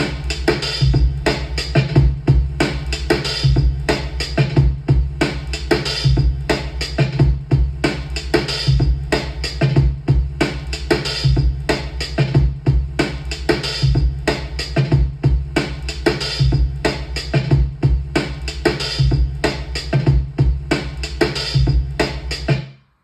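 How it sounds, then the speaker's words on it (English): A drum break sequenced on an MPC2000XL and run through an Elektron Analog Heat, a steady looping beat with dense, saturated hits and thick low end, loud and continuous for the whole stretch with no talking. "that's what it usually sounds when you have the analog heat hooked up to the 2000XL"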